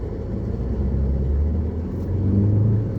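A car passing on a nearby road gives a steady low engine rumble across about three seconds, swelling slightly toward the end, with no talk over it.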